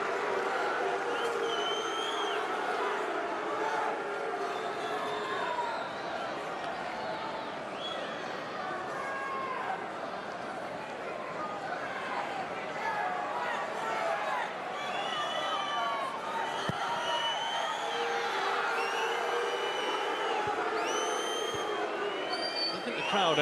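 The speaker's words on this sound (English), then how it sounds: "I think the crowd are overly happy here that play has continued while this situation is developing." A football crowd at an EFL Championship match between Oxford United and Leeds United, heard as a steady roar of distant cheering and chatter that fills the stadium, with a commentator talking over it.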